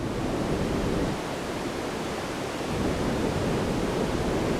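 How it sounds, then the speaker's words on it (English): Dense, steady broadband hiss like heavy rain heard from a distance, synthesized on a DSI Pro 2 synthesizer, continuous with a slight dip in intensity midway, no voices. "it's more this heavy, distant rain"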